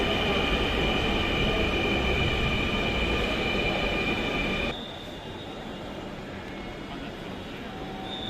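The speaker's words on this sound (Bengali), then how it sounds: "আমরা আরও একটি ট্রেনকে দেখতে পেলাম প্ল্যাটফর্মে আসছে" A Dhaka metro rail train pulls into the Karwan Bazar station platform, a loud sustained rumble with a steady high whine that drops in level partway through, then continues more quietly.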